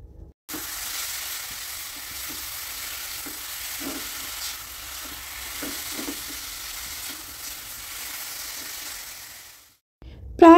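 Coconut sandesh filling cooking in a wok, a soft low sizzle with faint scraping stirs, fading out near the end before a brief clatter.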